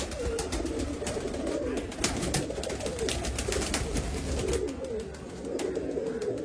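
Pigeons at a bird sale in Bangalore coo in soft, rolling phrases close by, with several birds overlapping and a faint murmur of the market around them.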